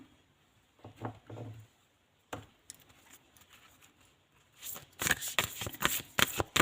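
Tarot cards are shuffled and handled, with soft riffling bursts early on, a brief snap, then a louder run of dense, crisp card shuffling near the end, all without speech.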